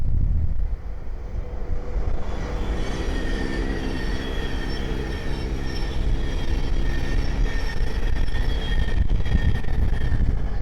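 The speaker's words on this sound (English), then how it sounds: "the next train to pass by is there is a Thameslink 700 from Cambridge to Brighton" A Thameslink Class 700 electric train from Cambridge to Brighton passes on the East Coast Main Line at Great Wymondley, a loud, steady rumble of wheels on rail with high tonal whines and some wind noise, lasting throughout with no voices.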